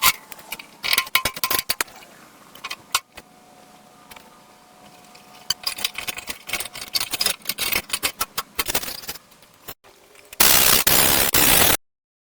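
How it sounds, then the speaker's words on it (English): Repeated hammer blows beating a dent out of a metal fuel tank for a Ford project truck, sharp metallic bangs in irregular bursts, close and loud, ending with a short burst of harsh hiss. "we're going to start working on our tank, beating this dent out"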